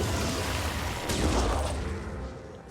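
A combat vehicle in the Terror From the Void game fires an additional missile, a loud close rumbling launch blast with a sharp burst in the middle that decays into a fading roar.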